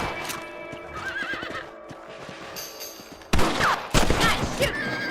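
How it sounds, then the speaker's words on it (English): Gunshots fired at rabbits in the Western video game Red Dead Redemption, a few sharp cracks amid horse whinnies and clip-clopping hooves, with two louder shots near the end. "Better at shooting rabbits than outlaws"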